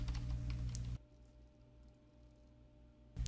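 Keyboard typing as information is entered into a web form, a quick run of close key clicks at the start and again briefly at the end, with a quiet room hum between.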